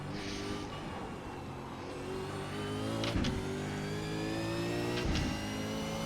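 Race car engine in the iRacing sim, a V8 Supercar at Willow Springs, droning steadily with harmonic tones as it downshifts, with two sharp blips of revving near the middle and end.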